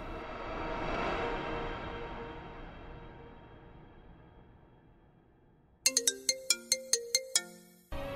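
A mobile phone ringtone plays a bright, repeating chime melody of sharp, bell-like notes, coming in after a fading swell of background noise.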